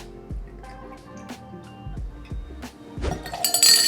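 Raspberry liqueur is poured into a glass, with small clinks and drips and a fuller splash of liquid near the end, and no talking.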